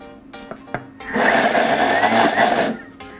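A food processor pulses soaked dried chickpeas with cumin, coriander and parsley for asparagus falafel, a loud whirring burst of about a second and a half between quieter knocks, with no voices.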